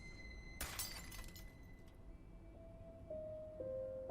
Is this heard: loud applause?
no